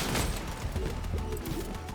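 Machine gun tap firing in the Crossout vehicle combat game, short bursts of shots repeating in a quick uneven rhythm at steady, fairly loud level.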